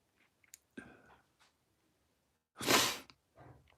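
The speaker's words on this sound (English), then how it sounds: "Excuse me for the sniffing as well." A few quiet sniffs and soft breaths, with one sharper, louder sniff in the middle, spaced apart in an otherwise quiet room.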